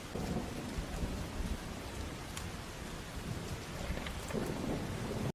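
Heavy rain pours steadily with rumbling thunder rolling through, a dense, continuous storm wash that holds at one level throughout and cuts off abruptly at the end.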